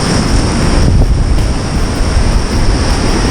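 Sea waves crash and surge against coastal rocks in a continuous loud roar, with wind buffeting the microphone throughout and no voices.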